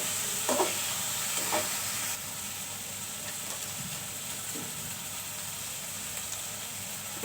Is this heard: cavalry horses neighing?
no